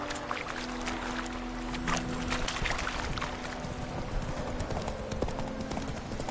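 Horse hooves clip-clopping at a slow walk in The Witcher, steady dull knocks under a continuous outdoor ambience with a low hum, moderately close.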